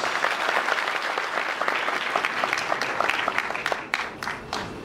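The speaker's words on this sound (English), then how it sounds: "please give all of them a big round of applause" Audience applause at the final of a Southeast Asian sommelier competition: dense, sustained clapping from a large crowd that thins into a few scattered claps at the end.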